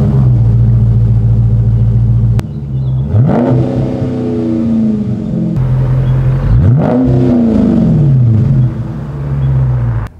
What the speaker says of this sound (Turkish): Sırada bu egzozları bir deneyelim.